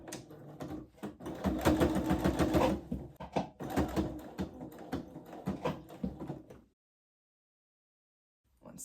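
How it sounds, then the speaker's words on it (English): A sewing machine stitches fabric for a babydoll dress in rapid, rhythmic bursts, running forward and backstitching with brief pauses, then stopping into silence. "now we can secure this in place and just sew front and back stitch at the start"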